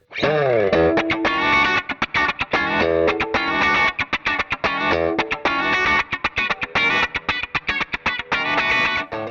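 An electric guitar through a compressor pedal on a NUX MG300, pickups in out-of-phase middle position, plays choppy, staccato chords with a thick, squashed sustain, loud and close with no voices.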